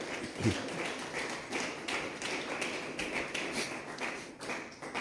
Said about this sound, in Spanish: ¿Le damos una ofrenda de palmas al Señor?